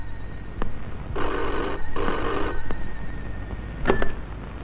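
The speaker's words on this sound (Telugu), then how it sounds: "పాపం ఏదో అర్జెంట్ ఫోన్ కాల్ ఉంది" A telephone rings in a house in short repeated bursts, two long rings close together and loud, with no one speaking over them.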